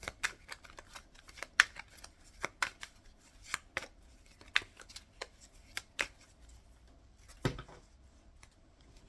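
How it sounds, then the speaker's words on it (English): Tarot cards riffle and slap in quick, irregular bursts as a deck is shuffled close up, with brief pauses between sharp snaps. "So just a few more cards as I'm shuffling here."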